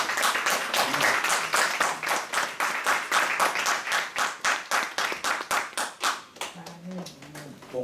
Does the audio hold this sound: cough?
no